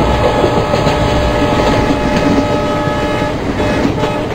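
Simulated WDM3A diesel locomotive hauling an express train in the MSTS Open Rails game, a loud steady rumble of engine and rolling wheels with faint rail clatter, continuous and close, with no voices.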